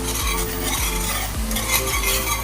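Burger mushroom sauce with half a beef cube and a little soy sauce is stirred in a pan, a spoon scraping in regular strokes about every half second over a continuous sizzle, close and fairly loud.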